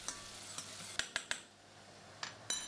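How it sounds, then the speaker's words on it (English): Shallots stew in melted butter in a pot over low heat, giving a faint, soft sizzle broken by a few light clinks and taps of a utensil against the pot. "melt 2 tablespoons of butter in a pot and stew the shallots in it over low heat"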